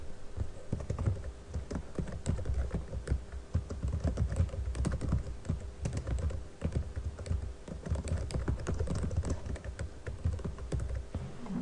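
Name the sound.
typing a caption on a computer keyboard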